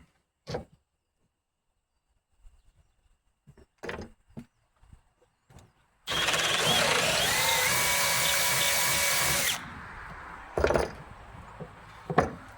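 A power drill bores a hole into a wooden stake, one sustained whine of about three and a half seconds set between scattered clicks, knocks and handling noises in a quiet room.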